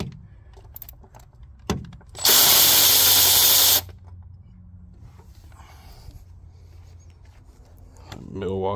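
A Milwaukee M12 power tool works on the engine of a 2006 Ford Ranger 4.0, a loud harsh burst lasting about a second and a half, with quieter clunks and shop noise before and after.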